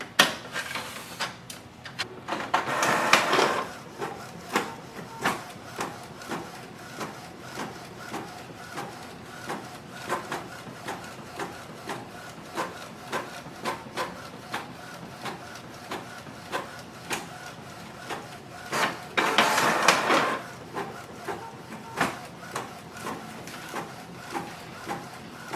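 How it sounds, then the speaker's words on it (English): A Canon Pixma G4270 inkjet printer works through a two-copy job, with a quiet, steady mechanical whir and ticking carriage movements, plus two louder bursts of paper feeding and ejection near the start and near the end. "Now this printer can do the two-sided printing"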